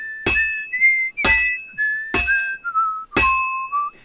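Blacksmith hammering on an anvil in Kingdom Come: Deliverance 2, four quick ringing metallic strikes spaced evenly while a character whistles a tune in between and over them.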